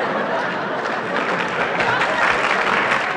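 A comedy club audience at a 1975 stand-up show breaks into applause mixed with chatter and a few chuckles, a steady wash of clapping that swells slightly toward the end.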